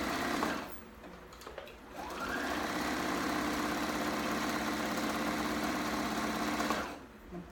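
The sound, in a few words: sewing machine stitching a dress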